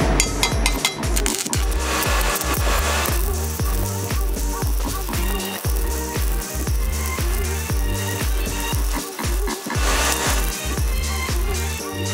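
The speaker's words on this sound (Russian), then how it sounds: "Как видите, сварочный процесс проходит достаточно легко" A Dnipro-M SAB 250M inverter welder runs a 3 mm ANO electrode for alternating current, striking an arc that crackles and sputters loudly and continuously with uneven rhythmic pulses, with no talking.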